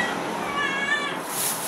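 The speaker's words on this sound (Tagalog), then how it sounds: "Ang cute talaga niya mag-meow-meow." A young cat, apparently pregnant, gives a single soft meow close by, briefly audible against faint background noise.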